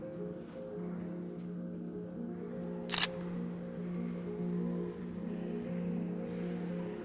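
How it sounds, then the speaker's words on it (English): A single sharp camera shutter click from a self-timer exposure cuts through a steady low indoor hum inside a museum building, with quiet before and after. "So the self-timer is set up a few seconds after I push the button, and the shutter will be open, in this case, is 3 seconds."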